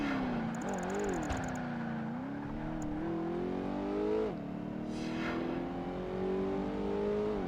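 Car engine held in first gear in Project Gotham Racing 2, a continuous loud revving whine that wavers and climbs slowly over several seconds, close and steady, with a faint high chirping above it early on.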